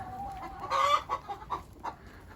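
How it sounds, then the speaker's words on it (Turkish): A farmyard hen cackles close by, a short burst of loud clucking calls followed by a few fainter, broken clucks, no voices. "Evet gıdaklayan hanginiz?"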